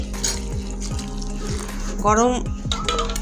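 Hot water poured slowly from a vessel onto hot, freshly fried rice flour, a steady liquid pour with a rising gurgle and faint sizzle under a low background hum.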